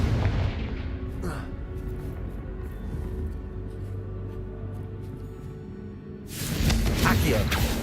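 Fiery Confringo spell explosions in Hogwarts Legacy: a short blast early on over a low game rumble, then a loud, sustained burst of fire near the end.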